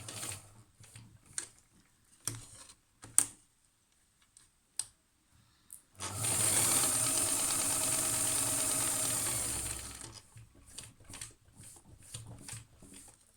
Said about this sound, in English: Still using my 6 millimeter foot seam, and I'm joining these edges together